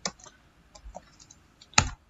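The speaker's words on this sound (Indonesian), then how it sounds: "Kita bisa mengetik nets" Keystrokes on a computer keyboard while a command is entered on Windows Server: a few light, scattered clicks followed by one sharper, louder key strike near the end, with no talking.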